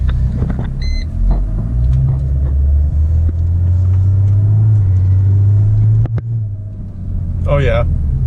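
A Mercedes E300 with the OM606 diesel engine rumbles while driving, its low engine note rising and holding as it pulls, close from inside the car, while someone talks over it.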